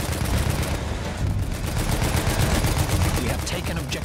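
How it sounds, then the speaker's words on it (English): Rapid gunfire in the first-person shooter Battlefield 1, a continuous stream of sharp, closely spaced shots at loud, near level with battle noise underneath. "I'm shooting at him."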